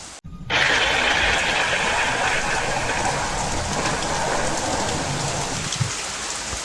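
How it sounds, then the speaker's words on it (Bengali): Heavy storm rain pours steadily and densely after a brief quiet start, a close, loud hiss of drops on surfaces that continues to the end, used as a sound effect in a Bengali audio story. "ঝড় বৃষ্টি এখনো চলছে।"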